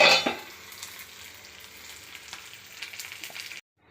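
Mustard seeds, urad dal, fenugreek and curry leaves frying in oil as a tempering for a South Indian fenugreek curry, a steady close crackling sizzle with a few pops, loudest at the start, then cutting off abruptly.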